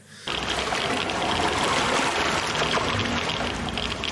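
Highly radioactive water trickling and pouring in a scene from the TV drama Chernobyl, a loud, steady rush of liquid that runs unbroken for about four seconds.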